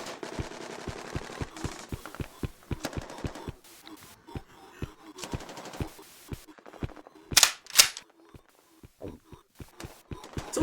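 Gunfire in the video game Datura, with rapid sharp shots in bursts and singles spread across the whole stretch, loud and close, with a few brighter metallic clinks in between and no talking.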